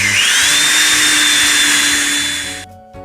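A loud, steady whine of a power sander on wood running close up, then cutting off abruptly near the end.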